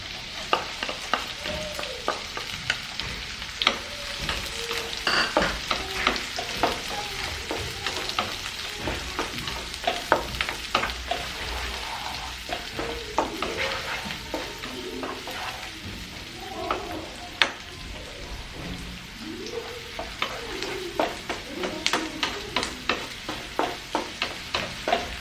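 Chopped onions fry in a pan for a curry of tinned fish and potatoes, giving a steady close sizzle broken by frequent scraping and clattering stirring strokes, with no talking.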